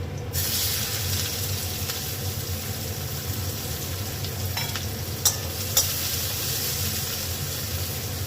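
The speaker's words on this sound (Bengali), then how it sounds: "এবার পেঁয়াজ কুচোটা ভাজা হবে" Chopped onion and a dried chilli with five-spice seeds frying in hot oil in a pan, giving a steady close sizzle with a couple of brief clinks of stirring.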